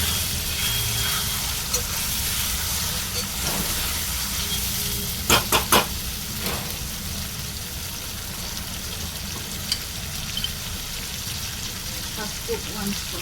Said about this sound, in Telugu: One spoon ginger garlic paste వేసి దీనిగా ఆయిల్ ఫ్రై చేసుకోవాలి.